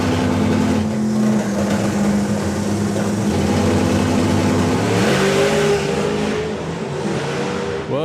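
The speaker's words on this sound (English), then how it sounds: "the turbo car against nitrous car" A turbocharged drag car and a nitrous drag car launch side by side at a European FIA/FIM drag racing event, loud roaring engines holding steady, then rising in pitch as they accelerate away, fading slightly at the end.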